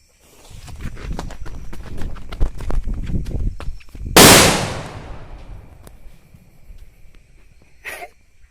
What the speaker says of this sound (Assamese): গেছ মানে ফাইনেলি ফুট গায়া ফটকা